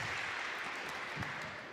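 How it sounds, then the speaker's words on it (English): A church congregation at a Sunday agape service applauding in a brief, soft, even wash of clapping that fades slightly toward the end. "Round of applause."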